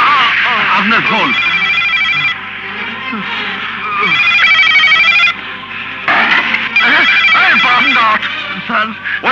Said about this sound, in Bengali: কিন্তু স্যার টেলিফোন বাজছে